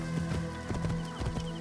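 Horse hooves clip-clopping in Assassin's Creed Origins, a steady rhythmic series of muffled thuds over a low droning background.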